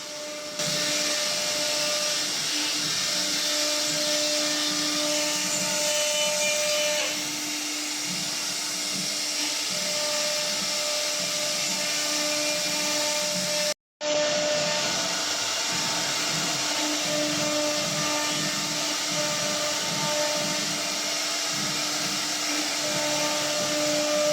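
A CNC woodworking machine hums with a continuous whine and steady tonal drone, operated from a laptop in a workshop; the sound runs unbroken apart from one brief cut near the middle.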